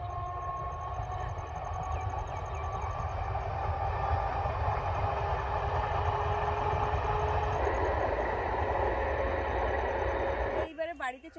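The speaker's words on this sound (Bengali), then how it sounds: "দুই পারে মাঠ, মাঠের মাঝখান দিয়ে ট্রেনটা আছে" A train running along a line through open fields in the Bengal countryside: a continuous loud, rumbling roll with a faint high whine on top, holding steady for about ten seconds before breaking off abruptly.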